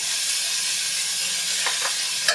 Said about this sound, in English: Alright, now just stirring around. Get that all mixed together.